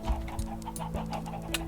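Chickens cluck softly in the video game Minecraft, several short clucks scattered over a low steady hum, faint and without talk.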